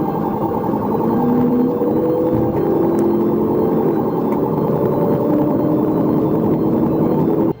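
A police car siren wails steadily during a chase, its rising and falling tone riding over loud engine and road roar throughout.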